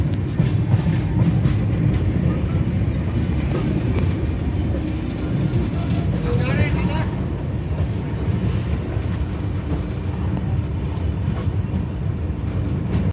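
Capital Express passenger train rolling into Thakurganj station on the Patna to New Jalpaiguri route, a steady loud rumble with faint wheel clatter heard from on board.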